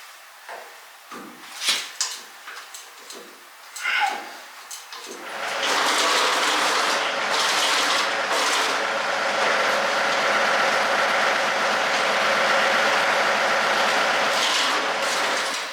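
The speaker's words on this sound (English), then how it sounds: "we'll turn the tractor on and test the hydraulics on the chute" A tractor hooked to a Frontier SB1164 snowblower starts up and runs steadily while the chute hydraulics are tested, a continuous broadband engine drone following a few scattered clicks and clunks in the opening seconds.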